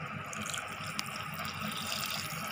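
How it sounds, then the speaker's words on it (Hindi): Buttermilk pours into rava cheela batter in a bowl, a steady close liquid rush and trickle lasting the whole stretch, with no talk. "अब हम इसमें मठा ऐड करेंगे।"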